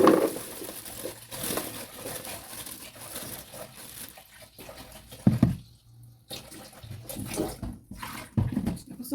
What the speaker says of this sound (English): I'm gonna wash the ackee.